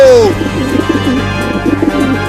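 Soft repeated cooing and light fluttering of cartoon pigeons flying up a tree, with a brief whistling tone at the start, close and moderately loud.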